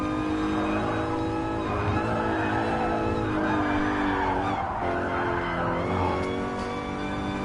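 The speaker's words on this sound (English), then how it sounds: "Car reversing sound." A sustained, high-pitched mechanical whine of a car in reverse gear in Gran Turismo Sport, droning steadily throughout with engine noise beneath it.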